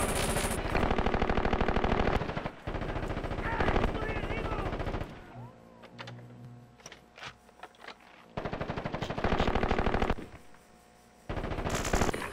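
Sustained machine-gun bursts and rapid gunfire from the video game Ghost Recon Advanced Warfighter 2, loud and dense, broken by short pauses and a quieter stretch with scattered shots and game sounds.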